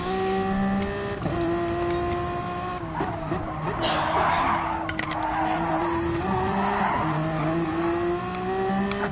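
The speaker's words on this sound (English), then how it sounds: "Little oversteer moment." Race car in Gran Turismo Sport oversteering, its engine droning steadily with a sustained tire squeal and skid rising through the middle, loud and continuous with no talk.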